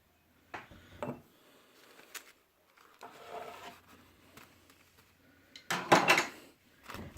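A quarter-teaspoon of stevia scooped from a large jar in a kitchen while making tea: close, scattered clinks and taps of spoon and jar, a soft scraping rustle in the middle, then a louder clattering burst near the end, with no talking.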